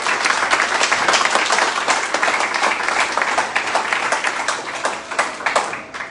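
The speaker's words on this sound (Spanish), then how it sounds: "Denle un fuerte aplauso al Señor" A church congregation claps together in sustained, crowded applause, thick and even for several seconds before thinning slightly as it winds down.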